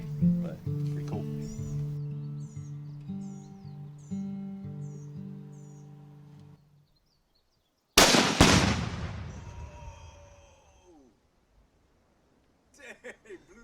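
An outdoor shot from a scoped rifle fired at a tree: voice-like tones and bird chirps come first, then one sharp, very loud crack and a long echoing decay, with faint sounds at the very end.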